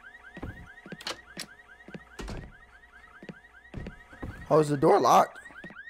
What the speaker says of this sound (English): I thought the mechanic fixed the alarm problem, but apparently not.